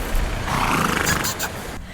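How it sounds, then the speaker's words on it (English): Horses on an island whinny and neigh in a rough, roaring burst that swells through the middle of the moment and then fades, with no talking. "I'm gonna go ahead and show you some clips of the horses that they have here on this island"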